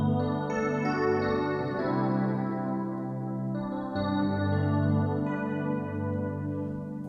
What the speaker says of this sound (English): a really lovely sound called FM Piano and Pad,